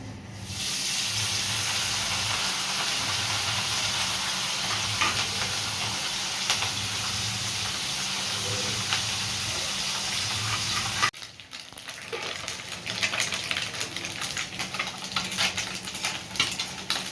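Morola fish frying in a hot pan for a spicy curry, giving a steady loud sizzle and hiss that cuts off sharply partway, followed by softer crackling with faint stirring scrapes.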